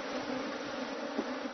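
Agitated honeybees swarm around hives set under a shed in intense heat, giving a steady, dense buzzing hum that holds throughout with no voices.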